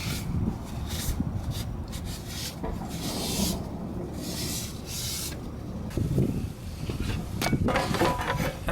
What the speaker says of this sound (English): you're going to take a paper towel and clean the matting surfaces all the way around